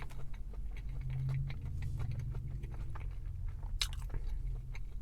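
Biting into and chewing an Arby's hushpuppy fish wrap with lettuce, a soft crunch rising over close, wet mastication sounds that continue steadily, no talking.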